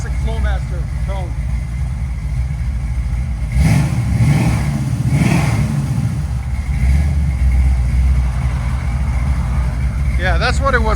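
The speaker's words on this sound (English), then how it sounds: "That's classic Flowmaster tone." A 1966 Chevy Chevelle SS with a 498 V8, headers and Flowmaster 40 Series exhaust rumbles loudly nearby, swelling through two throttle revs over a steady idle while people talk.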